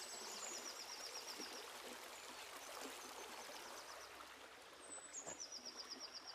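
A steady, soft rush of the river Iso flowing by a Roman bridge at Ribadiso on the Camino, with small birds chirping in quick repeated trills above it, heard from a short distance.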